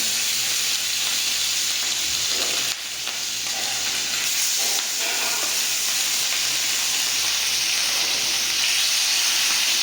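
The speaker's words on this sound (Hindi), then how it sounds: "अभी हम लोग मछली को फ्राई करेंगे।" Hilsa fish fries in hot oil in a pan, giving a loud, close, continuous sizzle and hiss with a brief clatter partway through as the fish goes in.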